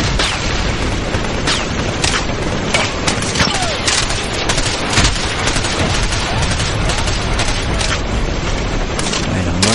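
Rapid gunfire in the video game Ghost Recon Advanced Warfighter, a dense, loud, continuous barrage of sharp shots and booms filling the whole stretch without let-up.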